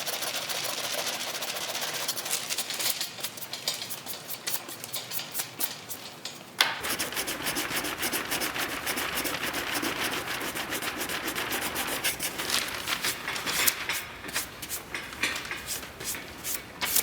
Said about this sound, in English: I'll finish sanding this